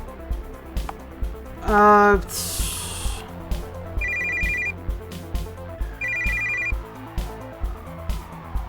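In a video game, a telephone rings through a handset while the player calls the police, bursts of electronic ringing tone repeating at steady intervals, accompanied by clicks, a short noisy blip and background game sounds, with a voice faintly present.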